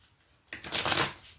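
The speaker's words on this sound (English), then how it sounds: "One more shuffle." A deck of tarot cards being shuffled by hand in a quiet room, a brief riffling burst that swells and fades after a short silent lead-in.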